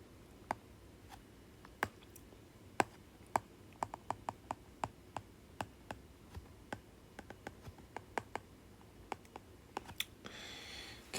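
Quiet, close computer-keyboard typing in irregular bursts of distinct clicks, with a brief rustle near the end and no speech.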